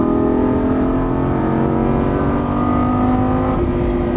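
A Lamborghini Gallardo LP550-2 on a racetrack accelerates hard with a loud, close engine note whose pitch climbs steadily, with a shift near the end.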